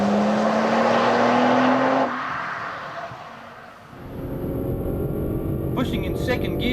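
Nissan GT-R engine revving hard in second gear toward the 7,000 rpm line, a loud rising roar that eases off briefly then builds again, heard from inside the car.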